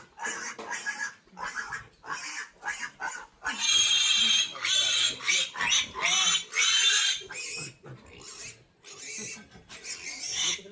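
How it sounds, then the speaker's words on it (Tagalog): Piglets grunt and squeal repeatedly while being moved on a pig farm, loud and close, in dense overlapping bursts with short pauses. "Lipat kami ng biik, lipat ng biik."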